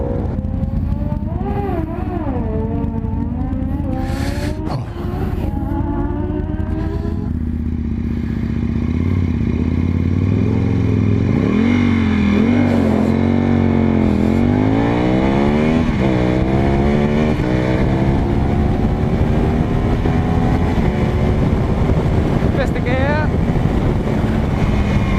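A drag race car launches down the strip at Santa Pod, its engine note rising through gear changes as it pulls away, loud and continuous with heavy wind buffeting the microphone.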